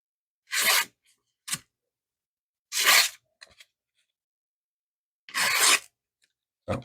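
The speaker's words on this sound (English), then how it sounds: "to test the sharpness, of course, we all know I'm going to pull out my Post-it notes" A linesman's or electrician's knife slicing through Post-it notes to test its sharpness, making short, crisp rasping cuts, three main strokes with small scraping ticks between them, close and clear against silence.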